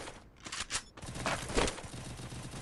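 Gunfire from the video game Free Fire, a quick burst of several shots followed by more rapid shooting, fairly faint and without speech.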